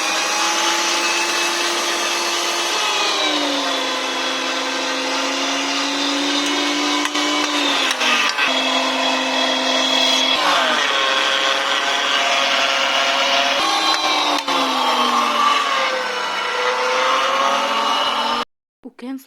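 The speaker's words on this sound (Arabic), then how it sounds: "هلا بدنا نروح على البرغل نديره بالماكينة" A kibbeh machine grinds bulgur in a home kitchen, a loud continuous motor whine whose pitch shifts and wavers as the load changes, running nearly nonstop before cutting off abruptly at the end.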